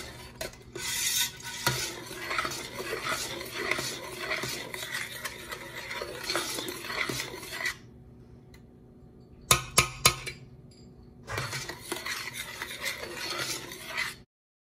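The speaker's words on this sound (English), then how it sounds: "mix it in real well, and then it will start to boil again" Strawberry jam is stirred in a pot with a utensil scraping and swishing steadily, pausing partway through and then resuming in short bursts before a longer stretch of stirring.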